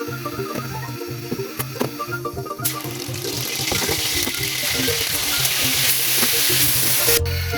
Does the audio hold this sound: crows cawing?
no